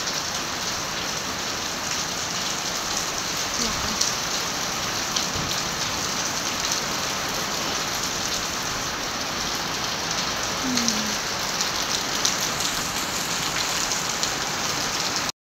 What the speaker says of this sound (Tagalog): napakalakas po ng hangin at saka ulan